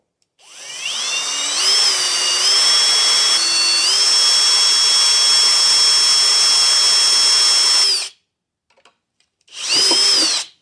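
A power drill bores into brass metal stock, whining at a steady high pitch for about eight seconds with slight shifts in speed, then stopping and briefly spinning up again.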